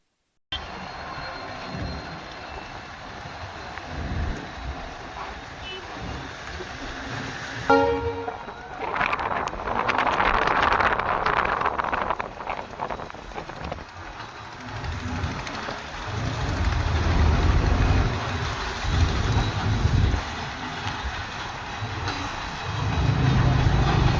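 A train runs back and forth on a test run in heavy rain, a steady rumbling rail roar with a brief horn-like tone and swelling passes over constant rain hiss, fairly close and loud throughout.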